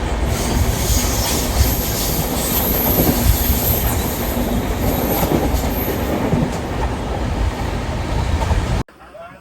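A long-distance passenger train from Pune to Haridwar rumbles steadily along the rails with a constant roar and faint rhythmic clatter, heard from inside, before cutting out abruptly.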